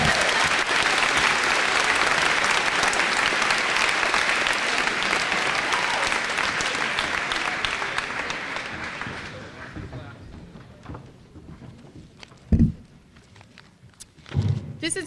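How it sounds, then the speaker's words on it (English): A graduation audience gives the speaker loud, sustained clapping that fades out after about ten seconds, followed by a few scattered thumps and handling knocks. "And now you can applaud me because I'm done."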